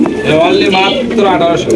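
A pair of black Hiraji pigeons coo up close in soft, repeated rolling calls, continuous and fairly loud with a little background noise.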